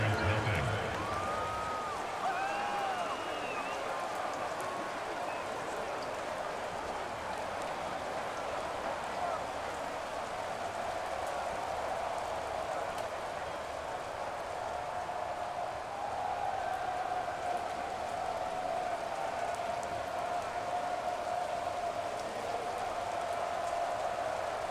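Steady rain hisses over an NFL football game between the Atlanta Falcons and Washington Commanders, a continuous broadband wash with crowd murmur and a commentator talking over it throughout.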